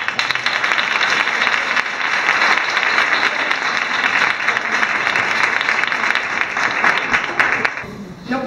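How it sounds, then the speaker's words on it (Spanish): Audience applause for the president of a women's association in Cartuja, Spain, a dense steady clapping from a sizable crowd lasting throughout and tapering off near the end. "Así que vamos a darle un aplauso"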